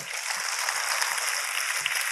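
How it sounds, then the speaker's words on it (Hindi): Sustained audience applause honouring poet Kanhaiyalal Sethia at a poetry recital event, a dense, steady wash of many hands clapping at even loudness throughout, with no voices. "एक बार सभी लोग इस कविता के रचयिता कन्हैयालाल सेठिया जी के जोरदार तालियां बजाएं"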